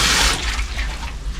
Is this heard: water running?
yes